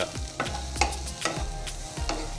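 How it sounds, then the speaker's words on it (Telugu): Aloo methi curry frying in a pan, with a spoon stirring through it in about four steady strokes that scrape and clack over a constant low sizzle, close and alone. "ఇలా వేసుకున్న తర్వాత దీన్ని అంతటిని ఒకసారి కలిపేసుకొని ఇంకొక 2 minutes వరకు, అంటే ఒక 2 minutes వరకు వేయించుకుందాం."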